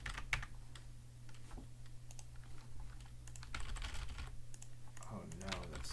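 Fingers tapping on a computer keyboard in short irregular bursts, quiet and close, with a low steady hum and brief stretches of talk over it.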